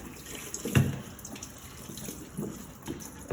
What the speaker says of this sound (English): let's go ahead and rinse all of that soap and gunk off